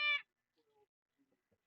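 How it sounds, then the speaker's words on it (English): A pet cat gives one short, clear meow up close, followed by quiet near-silence with a few faint small sounds. "She'll come and she'll yell at you, meow meow meow meow"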